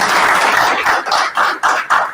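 An audience at a meeting in Guwahati, Assam claps in a short burst, several hands beating loosely and close by.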